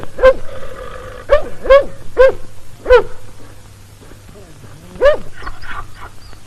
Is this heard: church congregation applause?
no